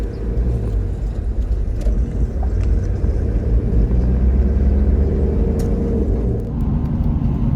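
Off-road vehicle leaving a gravel road and driving onto rough asphalt in the mountains toward Lusaka, Zambia, heard from inside as a continuous loud engine drone and tire rumble with no talking.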